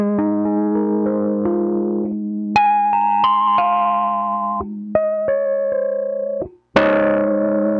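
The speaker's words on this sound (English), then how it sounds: "You can hear the dynamics in the saturation and compression with those two effects." Sustained electric piano chords and single notes ring out through saturation, compression and cassette-style effects, a thick, saturated, compressed tone changing every second or so, with one brief drop to silence.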